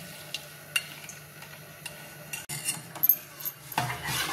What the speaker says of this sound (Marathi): एक 5 मिनटां ढवळीत रावपाचें, कारण पोंदाक लागपाक जायना